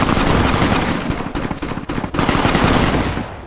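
Loud, continuous rapid gunfire in Fallout: New Vegas, dense and sustained with a few brief dips in intensity.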